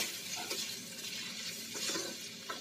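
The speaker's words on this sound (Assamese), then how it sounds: "আলুখিনি অকণমান লৰাই থাকিব মছলাখিনিৰ সৈতে" Boiled potatoes frying with spice masala in a pan, stirred with a spoon: a soft continuous sizzle with a few scraping strokes and light clinks, close and quiet, no talking.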